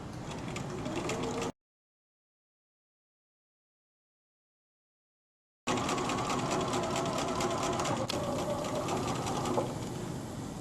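Sewing machine stitching a cord keeper runs in a steady fast mechanical chatter, close and loud, stopping completely for about four seconds before resuming at the same pace.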